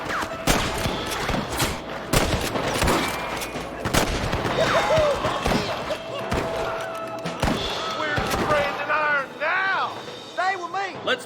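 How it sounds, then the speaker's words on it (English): Gunfire in the Red Dead Redemption western game, a rapid series of loud, sharp shots and bursts across the scene, mixed with character voices and shouting between volleys. "Good shooting, boy!"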